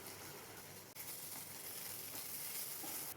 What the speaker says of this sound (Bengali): ভালো করে নেড়েচেড়ে নিচ্ছি।